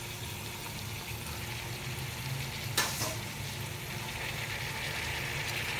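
Boiled spinach and fenugreek are stirred into vegetables frying in a pan, giving a steady close sizzle with one brief clatter partway through and no talking.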